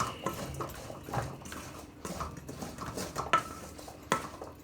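Green banana fries are tossed with a pinch of oregano, making light clattering scrapes and soft knocks of utensils against a bowl in an uneven, close mixing rhythm, alone with no voice.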